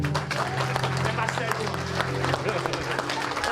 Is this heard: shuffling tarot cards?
no